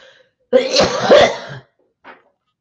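A person lets out one harsh, rough cough lasting about a second, close and loud, followed by a short faint breath or throat sound after a pause.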